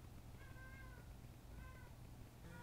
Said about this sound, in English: Is that Clyde meowing